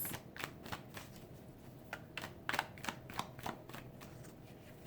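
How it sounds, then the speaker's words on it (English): Tarot-style reading cards shuffled by hand, a quiet close run of soft riffling flicks and taps in an uneven rhythm, alone with no speech. "Let me just do a quick little shuffle here"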